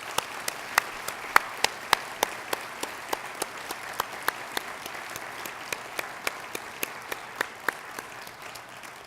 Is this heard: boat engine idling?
no